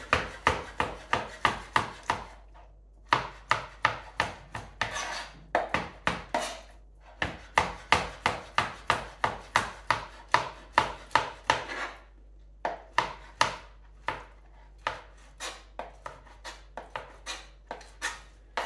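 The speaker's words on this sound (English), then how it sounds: "I'm just going to cut the fish up into little bits, very roughly chop it up" A knife roughly chops whiting fish into little bits on a board, a fast steady run of sharp close knocks in repeated bursts with brief pauses between them.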